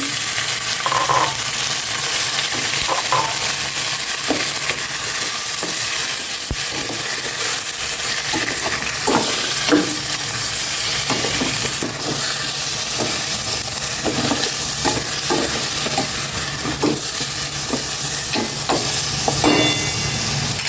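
Pork fries in a pan with a loud, continuous sizzle and hiss, punctuated by scattered spits and the scrape of stirring, close and unbroken with no talk.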